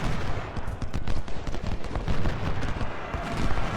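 Rifle gunfire from Civil War infantry in the strategy game Ultimate General: Civil War, a dense continuous crackle of overlapping volleys like distant massed musketry, with no talk over it.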